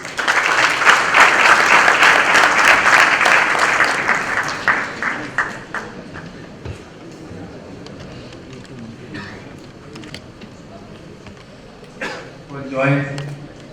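Loud audience applause welcoming a speaker onstage at an academy's 32nd anniversary event, dense clapping for about five seconds that thins into scattered claps, followed by murmuring and a voice speaking.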